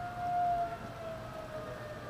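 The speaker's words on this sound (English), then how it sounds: "The sirens are going off" A distant outdoor tornado warning siren drones in a long sustained wail, steady and moderately faint over light ambient noise.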